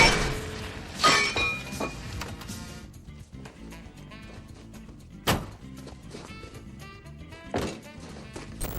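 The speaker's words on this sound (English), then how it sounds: "They built extras from fiberglass to shatter on impact" A fiberglass statue prop for the Home Alone film shatters on impact, with sharp crashing breaks and scattered clinking debris, followed by further separate smashes spaced apart in a quiet setting.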